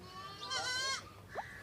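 A goat bleats once at a livestock market, a wavering close cry followed by a short higher call, over faint background market murmur.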